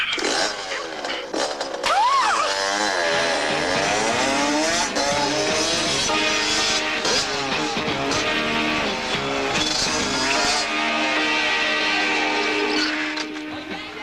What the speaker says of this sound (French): Ouais, elle roule au poil.